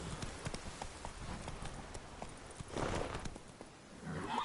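Roach the horse gallops in The Witcher 3 on PS4, a steady clip-clop of hooves close up with a brief swell of movement noise near the end.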